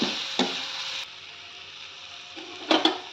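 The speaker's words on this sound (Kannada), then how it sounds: "ಇದನ್ನು ಚೆನ್ನಾಗಿ ಫ್ರೈ ಮಾಡ್ಕೊಳ್ಳೋಣ ಜಾಸ್ತಿ ವಾಸನೆ ಹೋಗೋವರೆಗೂ ಫ್ರೈ ಮಾಡ್ಕೋಬೇಕು" Masala of fresh ginger and curry leaves fries in a pan for pudina masala mandakki, a soft steady sizzle broken by a few sharp scrapes and stirs near the start and end, close by with no talking.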